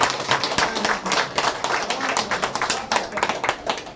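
Audience applause for participants at a training session, a dense spread of hand claps rising and falling steadily over a few seconds, with some talk underneath.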